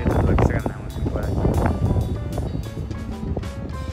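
Strong wind buffets the microphone outdoors among closely packed hillside houses, a steady loud roar and rumble that continues throughout, with a voice talking underneath.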